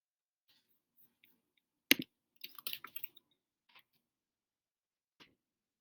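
Several quiet, sparse clicks of typing on a computer keyboard, a short burst of keystrokes near the middle with isolated taps before and after, in an otherwise silent room.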